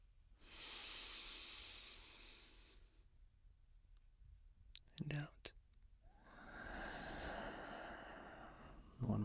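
Slow, deep breaths taken in and let out during a calming exercise: two long, soft airy breaths, each lasting a few seconds and close to the mic, with a brief rustle between them.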